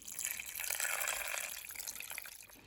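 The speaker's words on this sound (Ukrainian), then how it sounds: "І заливаю це все пів літра 500 мл куриного бульйону." Half a litre of chicken broth pours into a pot holding meat and pearl barley, a soft, close liquid splash and gurgle lasting a couple of seconds.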